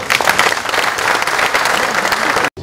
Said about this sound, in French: Et je voudrais qu'on les applaudisse et qu'on les remercie.